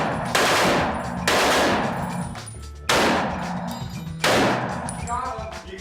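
A heavy machine gun fires four loud, close bursts of rapid shots, each cut off abruptly with brief gaps and ringing echo between them.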